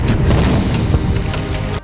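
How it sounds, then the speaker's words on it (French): Mr. McMahon's limousine blows up in a WWE parking lot: a loud, booming explosion with crackling, splintering debris rumbling on for nearly two seconds before cutting off abruptly. "une explosion monumentale"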